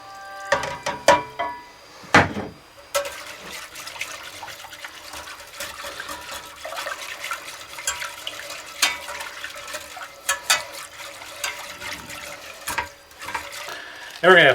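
Heavy cream and whole milk being poured into a butter and flour roux for homestyle mac and cheese, heard as intermittent liquid splashing and pouring with small clinks in a quiet kitchen.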